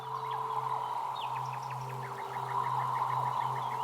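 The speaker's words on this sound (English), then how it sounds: "the swamp birds, they are real bird sounds, heavily affected." Heavily processed swamp bird calls, real birdsong run through effects: a steady stream of chirps and tweets over a sustained droning tone, continuous and moderately loud throughout.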